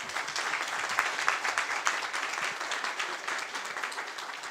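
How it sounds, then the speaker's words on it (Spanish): An audience applauds at a zero-waste policy presentation in Colombia, sustained clapping heard from a moderate distance, fairly quiet but continuous with no speech. "un aplauso en primer lugar para ustedes"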